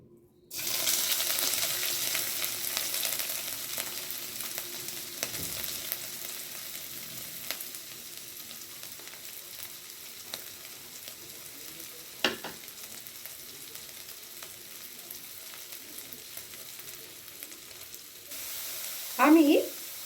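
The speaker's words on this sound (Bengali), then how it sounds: "আমি অল্প তেল দিয়ে চিংড়ি মাছটা প্রথমে একটু ভেজে নেব।" Small shrimp fry in a little oil in a hot wok with a steady, continuous sizzle that sets in abruptly and then eases slightly, broken by a few faint clicks and a brief louder rattle near the end.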